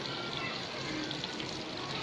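Water poured into a pan of frying spice mixture for Lahori chickpea curry gives a steady, dense hiss and sizzle that stays loud and even throughout.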